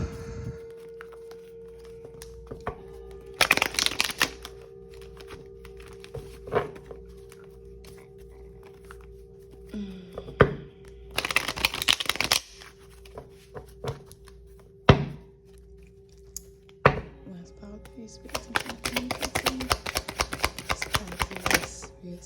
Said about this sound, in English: I'm going to shuffle this 2 more times